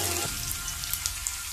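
Sliced onions hit hot oil in a pan with a soft, steady sizzle and faint crackle, close and alone, after a brief low thud at the start.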